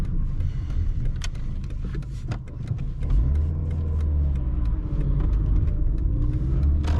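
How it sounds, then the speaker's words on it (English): A Mercedes-Benz C180 W203 with a 129 hp engine and six-speed manual pulls hard at full throttle in second gear with wheels spinning, a loud steady engine roar and low rumble building through city driving. "full throttle, second gear, and we spinning the wheels"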